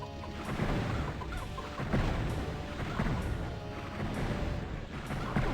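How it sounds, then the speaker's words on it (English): Enemies turned into chickens by the Morph Ovum in Heretic, clucking amid a dense, loud barrage of booming game combat noise, with repeated regular impacts. "let us use the morphobin chicken on all these guys, or at least some of them"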